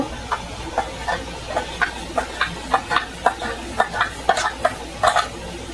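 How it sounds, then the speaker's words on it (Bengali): A spoon stirs milk in warm water in a bowl to dissolve it, giving a steady run of light clinking taps roughly every half second against a soft background hiss, close and moderately quiet. "চামচ নিয়েছি, দুধটা গুলে নেব"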